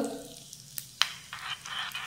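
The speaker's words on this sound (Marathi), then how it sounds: "इथे मी चमचाभर तेल गरम करून घेतलेलं आहे, त्यामध्ये घालूयात पाव चमचा हिंग" Asafoetida dropped into a spoonful of hot oil for tempering, giving a soft crackling sizzle with a couple of brief sharp pops, close and quiet.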